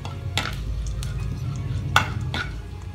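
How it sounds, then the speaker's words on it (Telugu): Cumin seeds fry in hot oil in a pan, with a soft sizzle under several sharp clinks and scrapes of a spoon against the metal, about four distinct strikes over a few seconds. "ఆయిల్ హీట్ అయిన తర్వాత ఒక టీ స్పూన్ జీలకర్ర వేసుకొని మొత్తం ఫ్రై చేసుకోవాలి"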